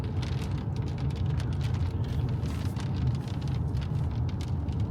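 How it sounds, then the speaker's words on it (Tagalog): Hail drums on a car windshield in a dense, steady patter from inside the vehicle, loud and continuous with scattered sharper ticks, no voices. "Naririnig mo yung bagsak ng yelo sa salamin eh."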